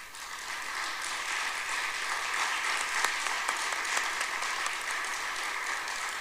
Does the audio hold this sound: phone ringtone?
no